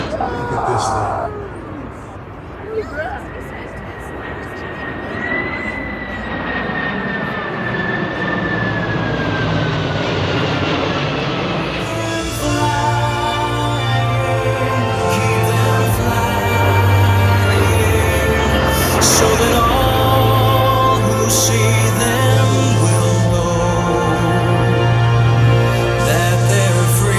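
C-5 Galaxy military airlifter jet flying over a Sacramento airshow, its loud sustained engine roar building and passing overhead, with commentary and crowd murmur beneath.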